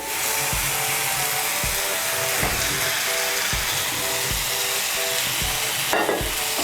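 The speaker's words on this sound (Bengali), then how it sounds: "আলুটাকে মিশিয়ে নেব মশলার সঙ্গে ভালো করে।" Fried potatoes stirred into a spiced masala in a pan for Bengali aloo torkari, with steady sizzling, scraping and periodic soft knocks of the spoon throughout, close and fairly loud.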